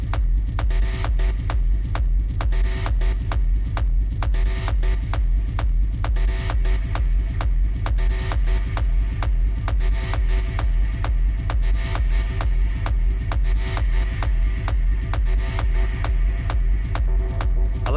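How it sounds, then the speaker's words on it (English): A music track is processed by a bit crusher effect, giving a steady, gritty, pulsing rhythm with dense, repeated beats and a buzzing, degraded tone throughout, with no voices. "the bit crusher is working"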